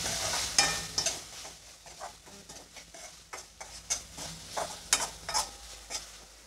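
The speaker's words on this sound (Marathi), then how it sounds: "हे सर्व आपण आता मिक्स करून घेऊया।" Shredded cabbage with turmeric and salt being mixed in a pan, soft sizzling under a run of light clicking spatula scrapes and taps, quiet and close, with no talking.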